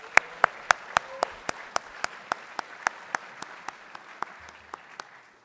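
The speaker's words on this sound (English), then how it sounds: "So one more round of applause for Taryn and Hannah." One person claps steadily and close, about twenty evenly spaced sharp claps slowly fading, over a faint murmur of a larger audience applauding performers Taryn and Hannah.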